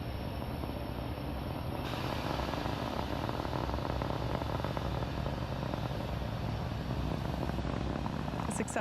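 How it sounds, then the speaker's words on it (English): Falcon 9 rocket climbing after liftoff from pad 39A at Kennedy Space Center, heard as a continuous, crackling, rumbling roar that holds steady throughout, with faint higher tones toward the end. "A successful liftoff for Falcon 9"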